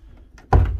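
A single solid thunk of a Ford Transit Mk7 van door shutting, loud and close, after a moment of quiet room noise.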